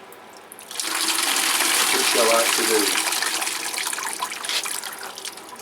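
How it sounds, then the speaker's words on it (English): Water gushes steadily through a plant pot being flushed, a loud continuous pouring rush that fades slightly toward the end, with someone speaking briefly over it. "I'm just bleaching it or flushing it through"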